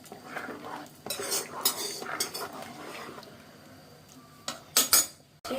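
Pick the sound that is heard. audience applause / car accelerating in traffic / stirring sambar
stirring sambar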